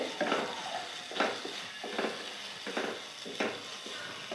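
Onion, ginger and garlic fry in a pan on a lowered gas flame, giving a steady soft sizzle broken by regular scraping stirs of a spoon against the pan.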